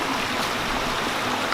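A waterfall-fed stream rushes in a steady, broadband wash of moving water, close and constant, with no voices.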